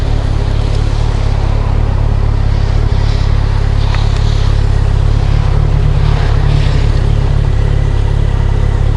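Motorcycle engine idling steadily on a wet day, a continuous loud low rumble with no breaks, heard alone.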